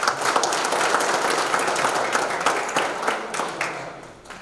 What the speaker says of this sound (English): may I request all of you to clap and then sit down